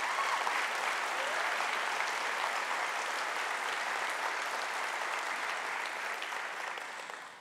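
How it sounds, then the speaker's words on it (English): An Optimist International convention audience in Ottawa gives a long, even round of applause, a steady crowd of clapping hands that holds for several seconds before tapering off. "Please give them all a round of applause."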